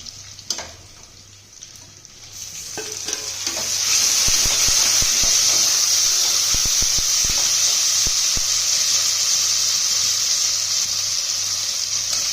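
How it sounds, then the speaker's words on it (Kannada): Tomatoes go into a pan of golden-brown fried onions for methi biryani, setting off a loud, steady sizzle that builds and holds, with sharp clinks of a spoon against the pan in between. "ಈಗ ಟೊಮೆಟೊ ಹಾಕೊಳ್ಳೋಣ"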